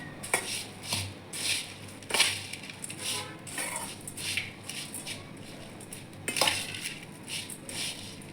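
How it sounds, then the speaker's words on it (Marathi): Bhel of puffed rice with raw mango and lemon being mixed in a bowl, with crisp rustling crunches and intermittent clinks of a spoon against the bowl in an irregular rhythm, close and moderately quiet. "सर्व व्यवस्थित मिक्स करून घेते."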